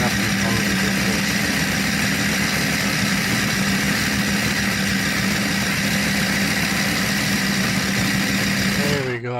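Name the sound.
blender motor kneading pizza dough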